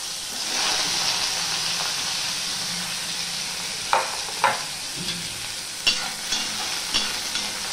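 Potatoes fry in a pan for a vegetarian green-banana curry, giving a steady close sizzle broken by several sharp scraping stir strokes, with no talking.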